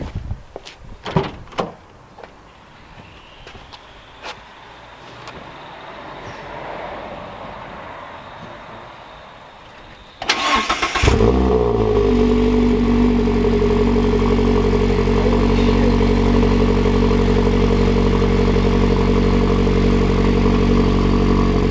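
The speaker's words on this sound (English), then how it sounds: "time for that cold start, shall we?" A few clicks and rattles, then a starter cranks briefly and a car engine with a newly installed Zymexx Gen3 exhaust catches on a cold start, roaring into a loud, steady idle that continues to the end.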